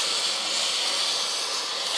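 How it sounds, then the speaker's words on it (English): A compact mini travel steam iron lets out a steady, close broadband hiss of steam that holds constant throughout, with no voices. "you can see that steam really protruding"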